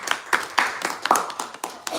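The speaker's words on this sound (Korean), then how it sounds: "So let's greet them with a big round of applause." A small congregation at a Korean Sunday church service claps to greet children, a short burst of distinct, separate hand claps close by in an uneven rhythm.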